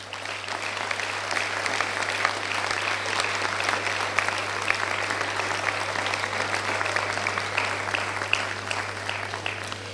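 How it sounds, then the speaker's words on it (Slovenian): Audience applause at the opening ceremony of the 51st AGRA international agricultural and food fair in Gornja Radgona, a steady dense clapping from a large crowd over a low constant hum, sustained throughout. "Sedaj pa aplavz za res."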